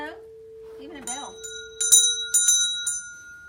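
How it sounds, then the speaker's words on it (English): A small hand bell rung to clear negative energy in a shop gives a series of bright, ringing strikes that sustain and overlap, following brief talk. "and also even a bell"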